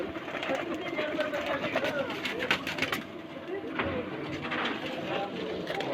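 Low flyer pigeons cooing at a home loft in Hyderabad, soft repeated coos mixed with wing flutters and bird noise, heard under people talking nearby.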